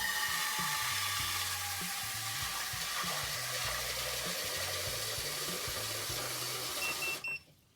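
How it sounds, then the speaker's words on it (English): Water from a garden hose with a filler meter set to 1 litre runs steadily into a brewing pot, a continuous loud rushing fill that cuts off abruptly near the end. "I've set up my hose and my filler meter to 1 litre. Just turn it on and fill this up to 1 litre by measurement."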